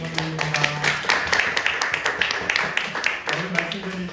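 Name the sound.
congregation clapping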